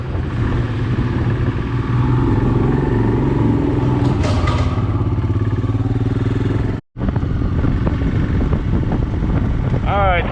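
A Royal Enfield Himalayan motorcycle rides along with a steady engine drone under heavy wind rush, loud and continuous from the rider's position, with one brief dropout.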